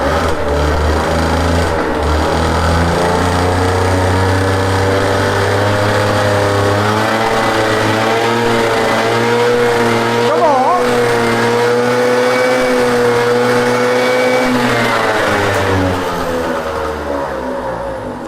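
The small two-stroke engine of a Peugeot Fox moped idles loudly and close up, then rises in pitch as the throttle opens, holds a buzzing high rev and settles back down. A person speaks briefly over the engine.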